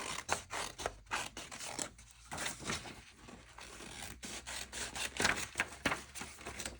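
Scissors cut a shape freehand, making repeated close rasping snips and paper rubs in an uneven rhythm, fairly quiet with no speech.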